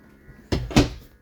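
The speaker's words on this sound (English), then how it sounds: "Spinning back around, closing the bathroom door." A bathroom door swinging shut inside a 2021 Forest River Wolf Pack travel trailer, heard as two close, solid knocks about a quarter second apart, alone in a quiet interior.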